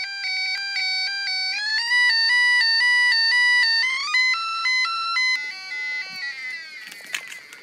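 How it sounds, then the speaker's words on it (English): An electronic two-tone siren from a 555 timer chip circuit gives bright, buzzy tones that step up and down in pitch. It is loud and steady, then turns more distorted toward the end, with no talking. "now we have a two-tone siren"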